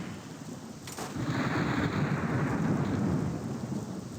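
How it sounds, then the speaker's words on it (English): Thunder rumbles and rain pours in a storm from an RPG Maker video game, the steady downpour swelling after a sharp crack and holding loud and close throughout, with no talk. "And it's raining too."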